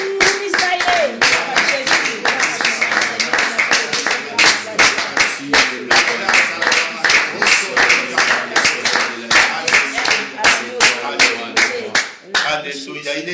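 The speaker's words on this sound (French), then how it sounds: "Si nous pouvons applaudir pour le Seigneur." A church congregation claps rhythmically for the Lord during a sermon, loud, regular beats in a steady pulse with voices singing or speaking over them, ending with a short pause and a few scattered claps.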